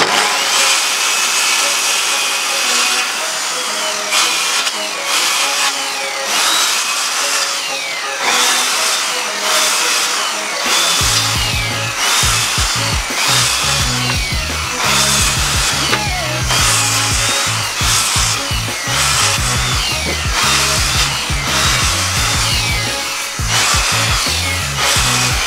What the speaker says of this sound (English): I'm gonna cut up some firewood with old Sparky here